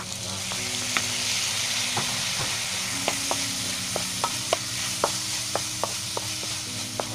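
Fish simmering in coconut milk sizzles steadily while a utensil stirs and scrapes the pan, giving repeated clicks and taps over the continuous bubbling hiss, with no talking.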